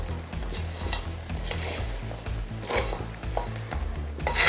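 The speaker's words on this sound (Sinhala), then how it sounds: "මේ විදියට පරිස්සමින් හැඳි ගා ගන්න ඕනේ අපි." A spoon stirs fried murukku in a pan as sugar syrup coats it, with continuous scraping and clinking over a bubbling sizzle, close and steady with no talk.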